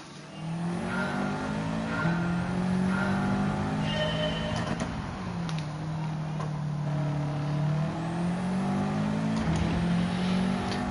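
Race car engine in Gran Turismo 7 on PS5 whining up and down through gear changes, rising and falling in pitch continuously, with occasional clicks and tire noise.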